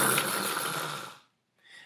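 A storyteller's voice imitates a dragon breathing fire with a long, loud, rasping roar-like exhale lasting over a second, then a brief pause and a softer second breathy burst.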